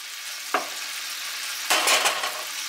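Sausage fries in olive oil for an omelette with a continuous crackling sizzle. A sharp utensil scrape comes early, then a louder burst of spattering stirring near the end.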